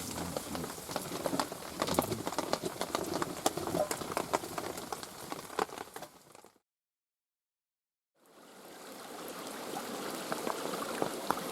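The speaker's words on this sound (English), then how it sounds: "the creek is really going for it now" Steady rushing water of a creek swollen after heavy rain at a wild campsite, a dense broadband roar with a brief total cut in the middle before the flow resumes.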